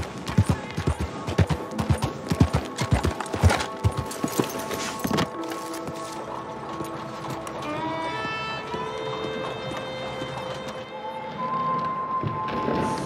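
Horse hooves clip-clop in Red Dead Online, a quick rhythmic run of hoofbeats for several seconds that gives way to sustained in-game music and ambient tones.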